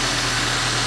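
A 2015 Subaru Impreza Sport hatchback's 2.5-liter boxer engine idles with a steady, low-pitched hum and rumble, close up and constant through the short stretch, no voices.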